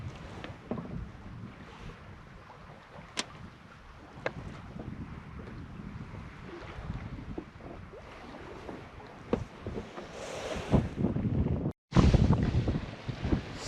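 A sailboat heading upriver on the Saint Lawrence in a freshening breeze, with steady wind buffeting and water washing along the hull, growing louder and gustier near the end.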